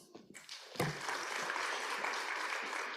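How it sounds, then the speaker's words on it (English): Lecture audience at a memorial event breaks into applause, steady clapping from many hands that swells quickly and carries on through the rest of the moment. "let's give a round of applause"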